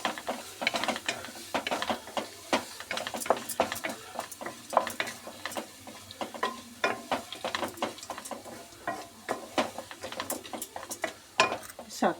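Tomato rice is stirred in a pan to keep it from burning, a rapid series of close clinks and scrapes from a utensil against metal over a faint sizzle.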